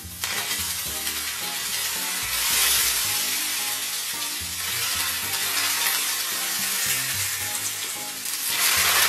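Smoking-hot oil poured over Sichuan boiled pork slices topped with chili pieces, scallion and cilantro, bursting into a loud, sustained crackling sizzle that swells in waves and flares again at the end.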